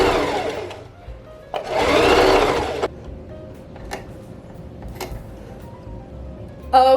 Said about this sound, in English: And so now I'm going to go around, sew it like that.